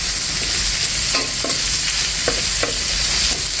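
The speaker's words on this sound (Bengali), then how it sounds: "জালটা কমিয়ে দিয়ে একটু পেঁয়াজ মরিচটা খুব সুন্দর করে ভেজে নিচ্ছি" Onion and chili frying in a pan over low heat for a potol and hilsa fish dish: a steady, loud sizzle throughout, with a few brief scraping stirs of a spatula against the pan.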